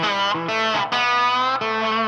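A distorted electric slide guitar in open tuning plays a short sustained lick with a few sliding note changes, loud and alone.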